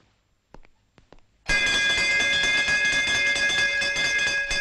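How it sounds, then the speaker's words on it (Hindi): A fire station bell rung indoors starts abruptly after a few soft knocks and keeps clanging loudly and continuously, a bright metallic ringing with sustained overtones. "मैंने तुम्हें कितनी बार कहा है कि ये घंटी मत बजाया करो।"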